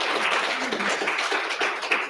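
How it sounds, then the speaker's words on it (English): Audience applause for a speaker at a South African thirty-years-of-democracy celebration, a brief burst of dense clapping from a seated crowd, steady and moderately loud. "Let's give a round of applause for Dr."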